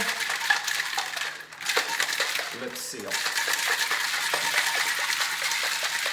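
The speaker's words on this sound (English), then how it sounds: "we drop our ice into our shaker and we're going to shake" Ice rattles steadily in a cocktail shaker, a fast continuous clatter, with someone speaking briefly under it.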